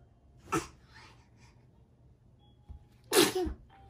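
A small baby of about three to six months gives a short breathy sneeze near the start, then a louder, sharper sneeze close by toward the end, with quiet room tone and soft breathing in between.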